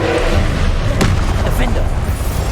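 A Confringo explosive spell is cast in Hogwarts Legacy, giving a sharp boom and thud in the middle of loud, continuous game combat noise, with a voice partly over it.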